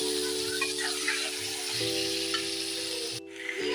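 Marinated chicken sizzles and crackles as it is stir-fried in hot oil in a pan for a chicken gravy, a steady close frying hiss throughout with steady tonal hum beneath and a brief stir near the end.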